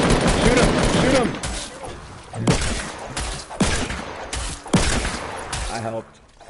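Video game gunfire crackles in rapid bursts, loud and repeated over several seconds, mixed with excited shouting from players.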